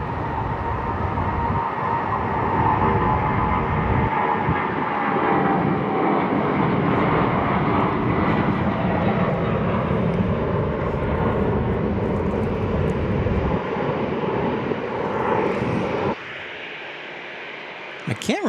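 An airplane at San Diego International Airport roars loudly and steadily with a broad jet-engine rush, holding near full strength for most of the span before dropping off abruptly near the end.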